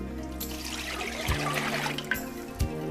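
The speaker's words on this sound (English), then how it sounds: "Add approximately 2 cups of water" Water pours and splashes into a halogen oven's glass bowl to clean it, a close, steady wash of liquid with a few soft knocks of the bowl.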